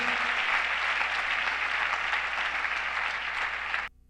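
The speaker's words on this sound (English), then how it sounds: "Shall we put our hands together for Jesus Christ?" A church congregation applauds during a worship service, a steady, dense wash of clapping that holds for nearly four seconds and then cuts off abruptly.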